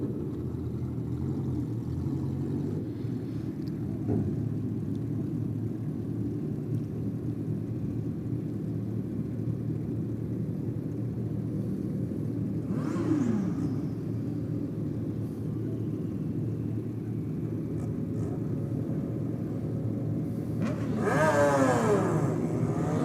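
Street motorcycles racing at a night drag strip in Sydney, a steady distant engine rumble lasting throughout, with a louder revving pass rising near the end.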